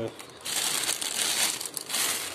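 A plastic bag crinkles loudly during the unboxing of an INTEX IT 881U speaker, in rapid irregular crackles across the clip while someone talks.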